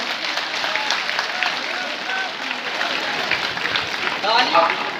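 A crowd claps to welcome a state government minister at a block-level rural Olympics games opening, with steady applause mixed with voices and some louder swells toward the end.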